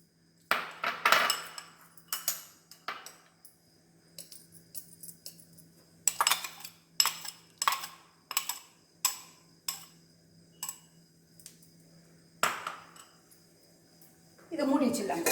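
Clinks and clatters of metal cookware and utensils sound around a pan of beans and egg being covered with its lid, sharp close knocks in irregular clusters, with a person talking over them.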